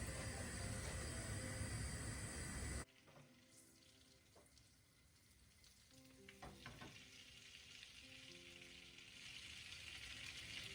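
Two tablespoons of butter melting and sizzling in a pan while Turkish muska mantı dumplings are prepared, a loud broadband frying hiss for the first three seconds, then quieter cooking sounds with a low steady background.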